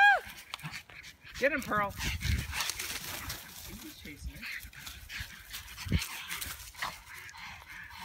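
Small pugs pant and whimper after a run outdoors, a close, uneven breathy rhythm with a few yips, with people talking and calling over it.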